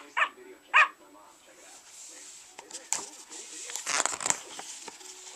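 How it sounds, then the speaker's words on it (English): Jingle, an interactive husky pup toy, gives two short bright electronic barks near the start, followed by a gap and then clattering handling noises. "Jingle loved to bark hello."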